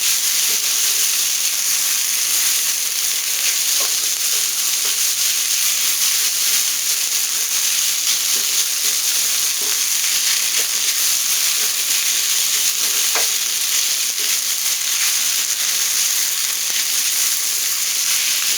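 Egg and rice fry in a hot pan with a loud, close, continuous sizzle and hiss, dense crackling holding steady as the food is tossed, with no voices.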